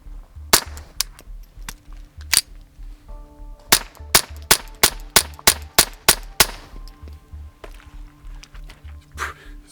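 Suppressed .22 gunshots fired through a Stratos suppressor, a string of sharp, fairly quiet cracks, a few spaced shots then a rapid steady volley of about ten, over a low outdoor hum.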